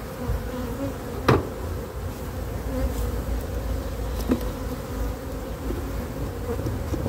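Steady low buzzing of many honeybees close by at a hive entrance, a dense drone throughout with a couple of brief sharp clicks or taps.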